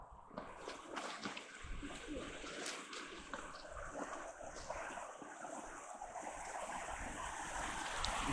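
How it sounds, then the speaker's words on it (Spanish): A small ranch stream runs over stones through little waterfalls, a continuous rushing and splashing wash of water, fairly close and steady, growing slightly louder toward the end. "me encanta ver cómo nace pues, el agua a través de las piedras, el hermoso arroyo, unas cascaditas ahí"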